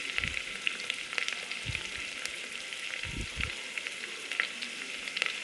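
Onions and spices sauté in sunflower oil for an egg curry, giving a steady, moderately loud sizzle with bright crackling and occasional soft stirring knocks throughout, no voices.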